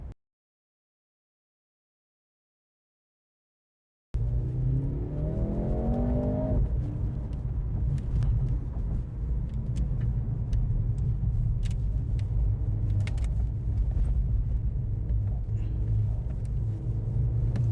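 Mercedes-AMG C43 with the M139 engine revving while driving, a steady loud engine drone with a rising rev sweep early on, continuous and close, with no talking.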